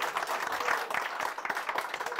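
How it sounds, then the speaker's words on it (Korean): Audience applause at a Korean book forum welcoming a Hyundai Card brand-marketing author to the stage, a steady patter of many hands clapping at moderate level with no talk over it. "한번 박수와 함께 모시겠습니다."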